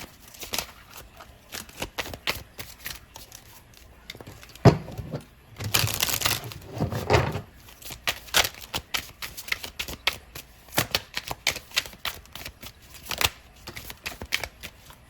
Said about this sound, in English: I'm gonna pull a card from the guardian angel tarot deck